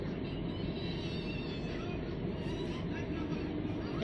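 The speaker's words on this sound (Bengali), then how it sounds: "ট্রেনটা চলে গেল" A train passing near Howrah, with a steady broadband rumble and rolling roar that holds loud and even throughout, and faint higher squeals of wheels on the rails.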